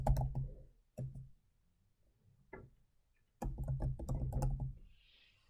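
Short bursts of clicky computer-keyboard typing, close and crisp, in three clusters separated by quiet pauses, with a faint soft tone near the end and no voices.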